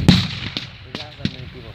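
Several sharp gunshot cracks from a World War II battle reenactment, spaced irregularly, some distant, with faint talk underneath in an open outdoor setting.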